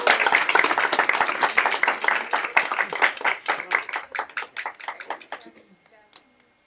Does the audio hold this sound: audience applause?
yes